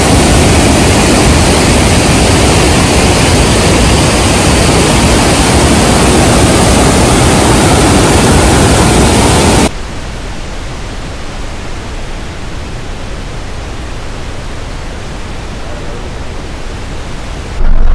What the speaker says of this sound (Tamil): தண்ணி சவுண்டு பாருங்க தெரியுது.